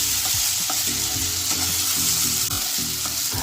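Spice paste with ginger for chicken tehari sizzles loudly in a hot pan, with a continuous frying hiss and repeated scraping strokes of a spoon stirring it close up.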